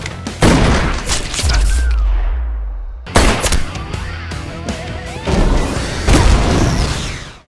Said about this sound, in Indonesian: Ledakan dari mobil-mobil tersebut akhirnya membuat Joseph terpojok dan tak bisa lagi kabur.